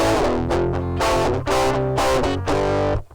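Overdriven electric guitar through the Day Tripper OD model on a Cube Baby multi-effect pedal plays loud, gritty chords in a choppy riff, with short gaps between strums before ringing out and cutting off.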